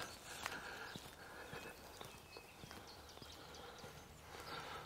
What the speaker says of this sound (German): ein paar Pferdchen auf der Weide hier vom Gestüt